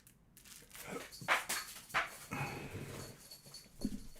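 A dog close by gives short snuffling, whimpering and huffing sounds in irregular bursts, fairly quiet and with no talking.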